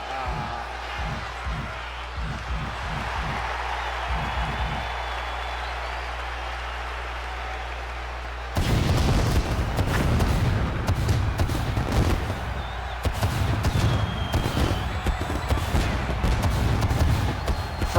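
Wrestling entrance pyrotechnics in a WWE video game, with bursts of rapid popping blasts and booms in the latter half, preceded by a quieter stretch with a few thumps.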